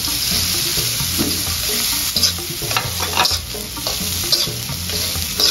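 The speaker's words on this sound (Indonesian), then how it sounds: "Minyaknya 4 sendok. Udah panas, kita masukin bawang merah" Shallots and garlic hitting hot oil in a wok, a loud bright sizzle and crackle with the scrape and clatter of stirring throughout, close up and without speech.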